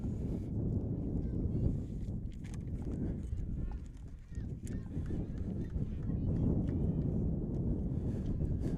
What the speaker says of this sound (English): Cold and windy day here in South Jersey.